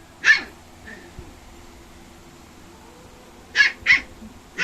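A puppy barking in short sharp yips, one at the start and a quick pair near the end, with faint whimpers and quiet background between.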